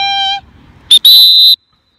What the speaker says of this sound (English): Here we have a whistle.